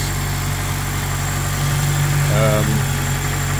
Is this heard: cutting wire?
no